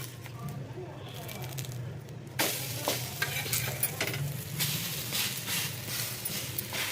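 Egg-dipped bread slices fry on a flat pan for bread omelette, a muted hiss that jumps into a louder, closer sizzle with scraping and tapping of a spatula as slices are turned.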